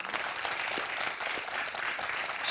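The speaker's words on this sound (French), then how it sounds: "Est-ce qu'on peut applaudir Gaston, s'il vous plaît?" A studio audience on a French children's Christmas quiz show breaks into dense, steady applause that stays loud and unbroken throughout, with no voices on top.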